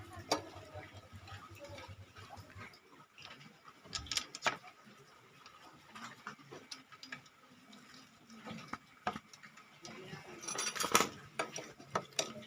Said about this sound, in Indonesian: Lalu kita putar menggunakan kunci.